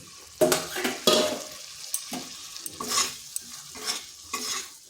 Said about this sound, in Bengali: আলুটাকে এই মশলার সাথে ভালো করে কষিয়ে নিতে হবে